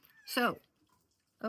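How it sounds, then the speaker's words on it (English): Outdoors, a bird gives two short, cat-like mewing calls that sound much like a meow, separated by a second of quiet, with a person briefly speaking. "I thought that was a cat, but no, it's a"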